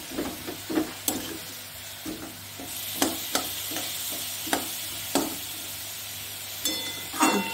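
Grated carrots frying in ghee for carrot halwa, a steady sizzle with repeated sharp scrapes and clinks of a spoon stirring against the pan, close and unaccompanied by talk.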